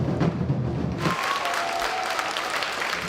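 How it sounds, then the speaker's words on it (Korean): A crowd at a Korean community year-end gathering in Toronto gives sustained, close applause with a few cheers, a dense wash of clapping after a brief low musical tail at the start. "환호와 큰 박수 갈채를 받았습니다"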